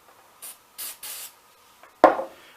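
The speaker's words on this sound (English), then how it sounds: "Let's spray it down." Lubricant sprayed onto a Ramset RS22 .22-caliber trigger tool: three short hissing bursts from an aerosol can, followed by a sharper knock or clack as the tool is handled, close and clear with no talk.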